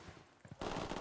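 Video game gunfire opens up partway through: a quiet lead-in, then a sudden dense burst of rapid automatic shots that holds loud to the end.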